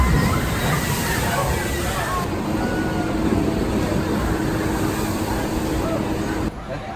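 Water rushes and splashes loudly and continuously on the Thunder River log flume ride at Waldameer park in Erie, Pennsylvania. The churning noise stays close and steady, with crowd murmur mixed underneath.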